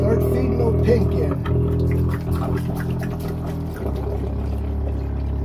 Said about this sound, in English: Turn the pump on.